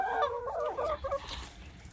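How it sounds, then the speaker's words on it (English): Chickens, one of them badly missing its feathers, clucking and murmuring close by in a series of short, warbling calls that fade toward the end, with quiet background behind them. "Hello, chicken."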